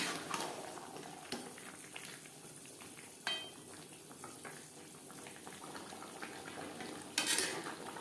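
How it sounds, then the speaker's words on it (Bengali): Potatoes coated in salt and turmeric are stirred together with chicken in a pan, a quiet low sizzle under intermittent scraping and a few sharp metal clanks from the utensil. "চিকেনের সাথে আলু বেশ ভালো করে মিক্সড করে দেবো"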